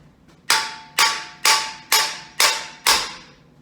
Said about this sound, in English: we're going to pop them back with a hammer